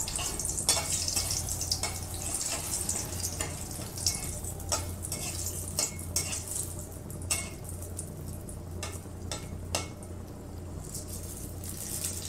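Dry red chillies, a bay leaf and panch phoron sizzle and crackle in hot oil in a kadai for mung dal with bitter gourd. The frying is steady and close, with sharp pops scattered through and no talking.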